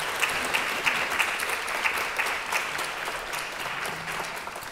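Sustained applause from an audience for a discussion panel, dense clapping that stays even and loud from start to finish.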